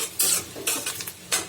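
Chopped onion and garlic with dried chillies fry for a pumpkin bhaji, sizzling hiss rising in several bursts as a spatula stirs and scrapes the pan, close and moderately quiet with no talking.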